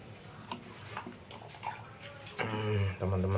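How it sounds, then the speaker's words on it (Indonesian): Water from a container is poured over coral in a louhan fish aquarium during a water change; soft splashing and trickling comes first, then a louder, steadier gush of pouring water near the end. "Koralnya ini kita siram aja, teman-teman."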